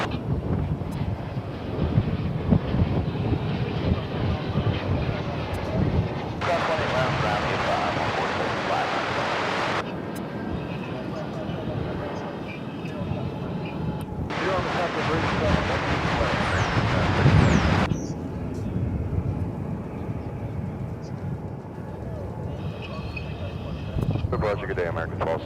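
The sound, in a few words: American Airlines 737-800 departing DFW Airport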